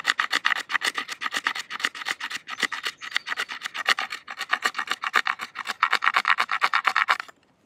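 Knife blade scraping fatwood: a fast, steady run of rasping strokes, close and loud, rhythmic back-and-forth scratches continuing for about seven seconds before stopping, with no talk.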